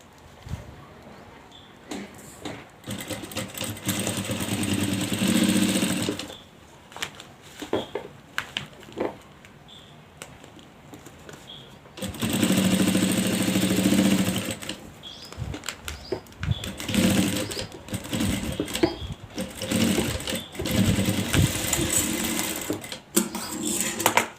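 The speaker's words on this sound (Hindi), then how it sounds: "सबसे पहले हम जहाँ हमने पाइपिंग नहीं लगाई है उस हिस्से को सिलाई से जोड़ देंगे।" A sewing machine stitches the fabric of a makeup box with piping in bursts of mechanical whirring. The runs of stitching are separated by pauses and handling clatter, and no one speaks.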